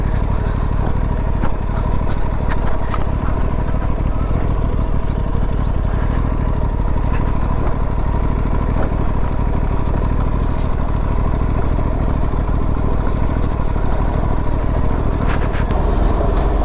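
Royal Enfield-style RS 457 motorcycle ridden over rough off-road tracks, its engine a steady, close drone with continuous road rumble and rattles running throughout, with no talk over it.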